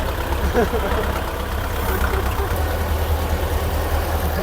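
A tractor engine idles with a steady low rumble throughout, close and loud, while people talk near it.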